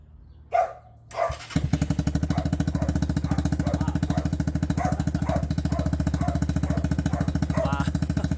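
A KP Mini 150 RS EFI motorcycle with its exhaust baffle removed is started after a couple of brief clunks, then idles loudly and close by in a steady, fast, throbbing putter that continues to the end.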